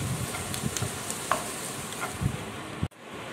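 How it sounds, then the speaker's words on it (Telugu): Ginger garlic paste frying in a non-stick pan, a soft steady sizzle with faint stirring scrapes and small clinks, fairly quiet and close, with no talking. "సో ఇప్పుడు మనం అల్లం వెల్లుల్లి పేస్ట్ వేసుకొని కొంచెం దూరగా వేయించుకోవాలి."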